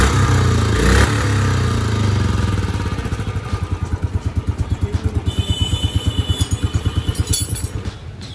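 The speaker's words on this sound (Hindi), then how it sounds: "गाइस अब बाइक स्टार्ट करते हैं, दिखाते हैं कैसी आवाज़ आती है।" A BS6 Royal Enfield motorcycle with its stock silencer starts amid workshop noise, then settles into a loud, close, steady thumping idle with a regular pulsing beat.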